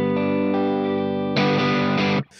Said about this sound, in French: Ça, c'est le son de la gratte.